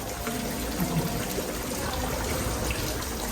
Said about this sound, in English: Here's the front view of the water fountain.